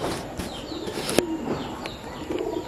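Pigeon flying overhead, with soft wing flaps and faint coos and chirps over an outdoor background, plus one sharp clap-like flap near the middle.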